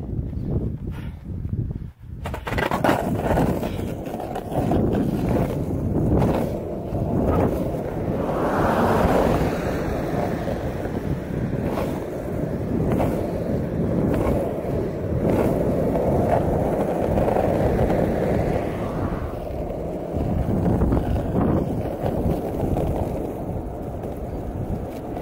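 A 1988 Christian Hosoi Hammerhead skateboard rolls steadily over pavement, its continuous wheel roar blending with wind rush for most of the stretch, close and fairly loud after a brief quiet start.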